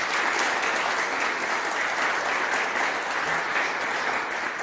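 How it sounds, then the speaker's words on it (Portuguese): A church congregation claps loudly and continuously, a dense even wash of applause that carries on for several seconds with no voices above it. "Vamos aplaudir a palavra de Deus"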